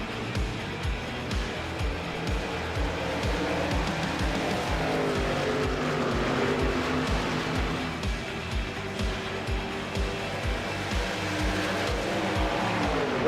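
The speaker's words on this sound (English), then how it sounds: "Trucks on track." NASCAR trucks race around Daytona in iRacing, a steady loud engine drone with rhythmic pulsing and shifting pitch as the pack roars along the track, with no pauses.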